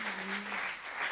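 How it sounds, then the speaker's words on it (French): A TV comedy talent show audience claps in a dense, even burst of applause lasting about a second, loud and close with no voices over it. "tonnerre d'applaudissements pour Tiziano"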